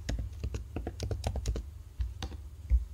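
Rapid keystrokes on a computer keyboard while entering text into a filter box, an irregular burst of close, crisp taps with brief pauses, no talking.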